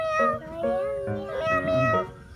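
A cat meows several times in a row, with drawn-out, rising and falling cries that sit close and clear against a light musical backing.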